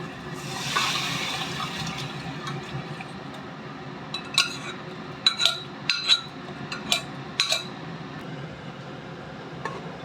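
Boiled mutton with its water splashes and pours into a pan, followed by a series of clinks and scrapes of metal utensils, close and fairly quiet.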